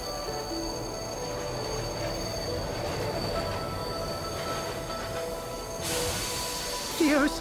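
A train in the video game Bright Paw pulling into a station, steady rumbling rail noise with high wheel squeals, rising to a brief louder hiss and clatter near the end.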